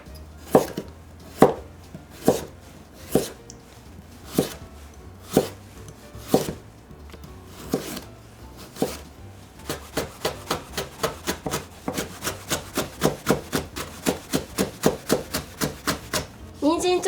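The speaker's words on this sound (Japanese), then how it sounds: "雨に形状を合わせて人参も細切りにしていきます。" Knife cutting carrots into thin strips on a board, crisp close chops, spaced single strokes at first and then a quicker even rhythm.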